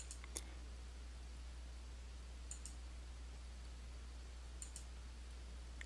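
A few quiet, separate computer mouse clicks, alone with no talk, set against a steady low background hum.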